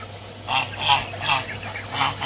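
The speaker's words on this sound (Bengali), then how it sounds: "দেখছেন, প্রচুর রাজহাঁস আছে।" Geese honking on a farm beside a guava orchard, about five loud nasal honks in a loose rhythm over a quiet background, with no speech.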